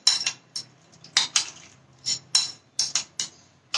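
A spoon clinks and scrapes against a bowl while chopped onions and other ingredients are mixed into a green sandwich filling, with about a dozen bright, close strikes in an uneven rhythm.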